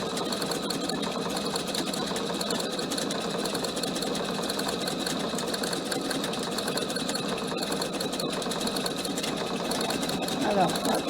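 A PFAFF sewing machine runs steadily while sewing a cushion cover with a lance-point needle, a continuous close whirring hum that persists for the whole stretch beneath someone talking.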